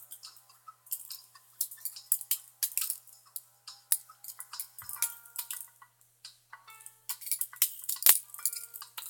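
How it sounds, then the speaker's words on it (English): A switchblade knife is flicked open and shut over and over, giving a steady series of sharp, light metallic clicks close by at a low level, with no talking. "So this is my Switchblade that I'm just opening and closing."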